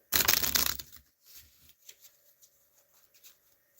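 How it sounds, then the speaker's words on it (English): A deck of cards is riffled in one loud burst at the start, followed by softer shuffling and tapping as the cards are squared up. "Properly shuffled for Miss Blipper."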